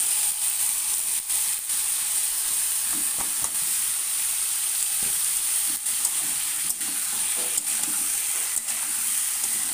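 Ground vegetable paste frying and being stirred in a pan for an aloo-baingan chorchari, with a steady loud sizzle and occasional scrapes of the spoon, close and continuous with no talk.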